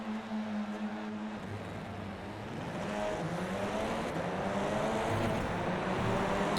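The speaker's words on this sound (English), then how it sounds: "So all that wheel spin" An Audi RS3 LMS launching in iRacing roars with a loud, sustained engine drone and rising harmonic whine as the tyres spin, continuous and close throughout.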